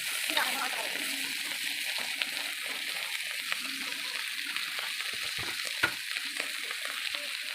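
Dried fish frying in a pan, a steady bright sizzle with small pops and crackles throughout, close and fairly loud, with a voice speaking underneath.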